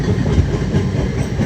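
Kasimbazar–Azimganj MEMU passenger train running close by with a steady heavy rumble and a rhythmic clickety-clack of wheels over rail joints.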